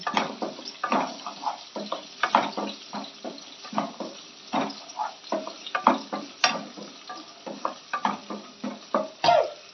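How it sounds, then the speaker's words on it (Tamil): Garlic cloves and ginger sautéing in a pan for Tamil-style chicken curry, with repeated scraping and stirring strokes over a steady, moderately loud sizzle throughout. "பூண்டு ரெண்டு மூணு பல் பூண்டு அப்புறம் இஞ்சி இலையை போட்டு இதையும் வதக்கி"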